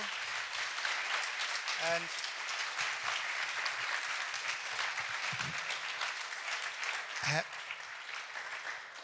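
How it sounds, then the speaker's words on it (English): Sustained applause from a conference audience after a panel discussion at T3CON13DE, steady clapping throughout with a brief voice or two emerging from the noise. "maybe a warm applause for Brian, Rasmus, Christopher, Joe, Dominic"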